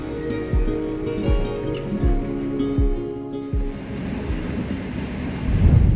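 A train to Asahikawa, Hokkaido, rolls through snowy plains with rhythmic clacks of wheels over rail joints, then a steady rushing rumble takes over as it keeps moving.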